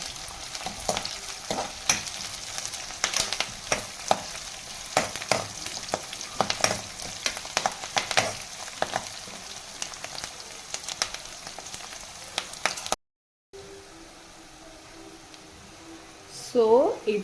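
Curry leaves and chopped amaranth greens fry in hot oil while being stirred, making a crackling sizzle with scraping stirs, followed by a quieter stretch with faint background noise; no talk is heard.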